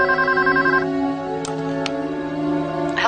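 Telephone ringing loudly with a steady electronic tonal ring, followed by brief clicks near the end, with no talking over it.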